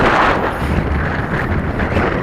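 Strong, steady wind buffets the microphone during a windy maiden flight of an XK K450 Aviator RC aircraft, a loud continuous roar that fills the clip with no voices.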